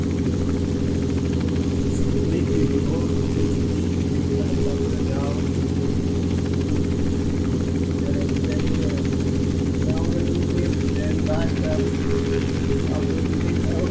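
Helicopter in flight during an ILS approach training session, a steady loud engine and rotor drone with strong low harmonics holding constant throughout, with faint intermittent speech over it.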